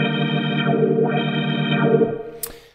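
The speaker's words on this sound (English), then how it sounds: "here is a ridiculously loud and wide wah" A Hammond B3 organ sound in Logic Pro X holds a sustained chord with a loud, wide wah effect sweeping the tone up and down in slow repeated waves, alone and close, before cutting off.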